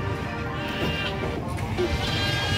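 Goats bleat a few times at a busy livestock market in Malasiqui, Philippines, their calls rising over a steady bed of crowd and yard noise.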